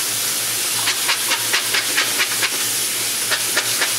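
An algae scrubber screen from an LED aquarium setup is rinsed under running water at a sink, a continuous hiss of flowing water overlaid with a quick series of rhythmic scraping strokes.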